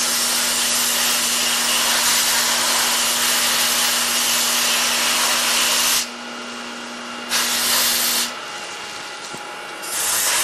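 Compressed air blows coolant off a machined bushing during hard turning and grinding work, a loud steady hiss that runs continuously and then cuts in and out in short bursts toward the end, with a constant machine hum beneath.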